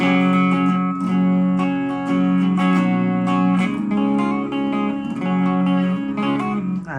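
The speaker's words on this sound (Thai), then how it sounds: "ปิดทุกอย่างปิดอันนี้เป็นเสียงกีตาร์ผมเลย" A clean, undistorted electric guitar through a Korg AX3000G multi-effects unit with all effects off, strumming and picking chords continuously, bright and close.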